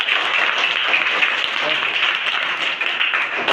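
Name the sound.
classroom applause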